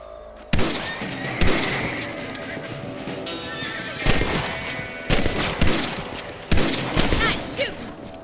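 Gunfire while shooting rabbits in a video game, several loud, sharp shot bursts spaced across the clip over a steady bed of hoofbeats and horse whinnies, with no talking.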